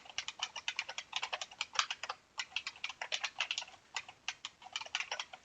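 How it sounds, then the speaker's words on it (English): Rapid clicking keystrokes on a computer keyboard while an email address is typed, quick uneven bursts of taps, close and fairly quiet. "we'll type in a good email"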